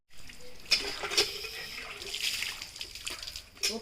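Water splashes and trickles while someone washes their face, a soft run of intermittent splashes and dribbles at close range, fairly quiet throughout.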